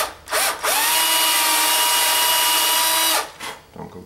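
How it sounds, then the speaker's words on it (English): A power drill whirs steadily for about three seconds as it bores into wood, starting and stopping abruptly, loud and close. "I want to drill a hole in here"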